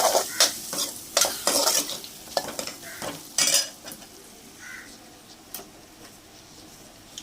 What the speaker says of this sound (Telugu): వేసుకున్న తర్వాత ఇది కూడా బాగా మిక్స్ చేయాలి.